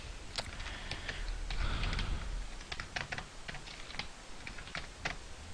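Fingers typing code on a computer keyboard, a rapid run of close clicking keystrokes in uneven bursts with brief pauses between them and low room noise underneath.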